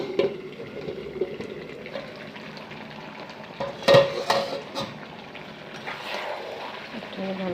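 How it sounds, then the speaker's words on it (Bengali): Duck meat is stirred and fried in a pan, with a scraping, sizzling clatter and one louder spoon-against-pan clank midway. "ভালো করে নেড়ে চেড়ে যাব।"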